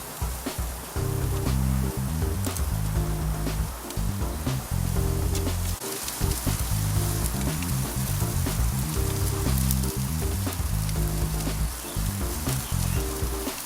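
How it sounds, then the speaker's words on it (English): Short ribs sear over direct heat on a grill, giving a dense, continuous sizzle and crackle like steady rain. Quick pops and sharp snaps break through the hiss from start to finish. "We're gonna place the short rib over the direct heat for about 3 to 4 minutes."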